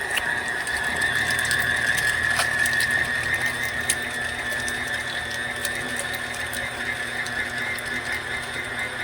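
A Cabela's Carnivore electric meat grinder works through meat for bratwurst, giving a steady mechanical whine and hum with faint intermittent clicks, alone without talk at moderate level.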